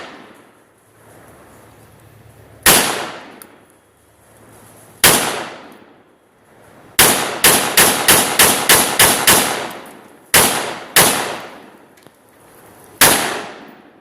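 Gunshots fired at a target crack out close and loud, a few single shots followed by a rapid string of about eight, then more spaced single shots, each leaving a short decaying echo.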